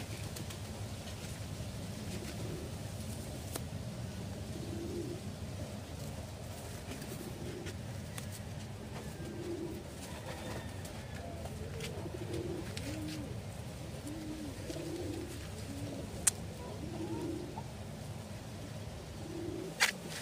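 Several pigeons from a Jansen breeding line coo softly in repeated low, throaty phrases, faint and fairly close, over a steady background murmur.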